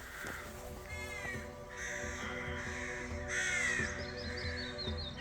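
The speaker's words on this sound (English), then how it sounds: "And here, you can hear all those birds." Crows caw repeatedly outdoors along a road near Kingussie in the Scottish Highlands, harsh calls coming in bursts at moderate distance over a low steady background.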